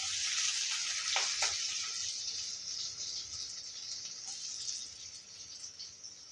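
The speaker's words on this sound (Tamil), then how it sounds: "கொஞ்சம் கருவேப்பிலை இந்த உப்பு போட்டு வதக்கிக்கலாம் லைட்டாக" Chillies and large onions fry in a pan for a potato curry, a soft, steady sizzle heard close and alone, with a couple of brief sputters.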